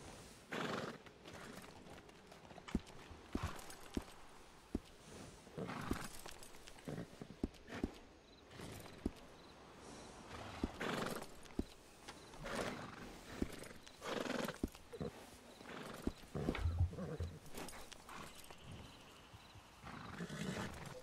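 A horse walks and neighs in the open-world game Red Dead Redemption II, with scattered hoof clops, snorts and whinnies spread over a long stretch, mid-distance and moderately loud amid ambient game sound.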